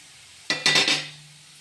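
Carrot halwa stirred and roasting in ghee in a pan, a sudden scrape of a spoon against the metal followed by a short sizzling rustle, close and brief over quiet background.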